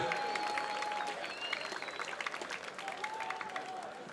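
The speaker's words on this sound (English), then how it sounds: "a big round of applause for both of these men after 3 excellent rounds of action" Crowd applause and cheering ring out at a boxing event after a three-round bout ends, dense clapping that stays steady and loud throughout, with a couple of whistles rising above it.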